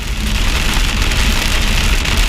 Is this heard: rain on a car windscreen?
yes